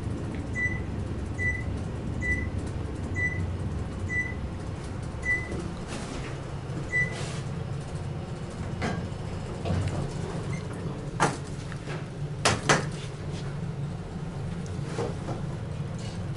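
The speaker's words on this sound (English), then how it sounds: "Door close works." An Otis low-rise elevator at the Harbor Tower of the Manchester Grand Hyatt in San Diego chimes in a steady series of short beeps, then its door slides shut with a few soft thumps against quiet cabin hum.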